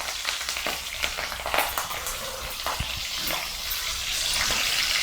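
Slit green chillies frying in hot oil for a village-style country chicken curry, a dense, loud, continuous sizzle and crackle with occasional stirring knocks.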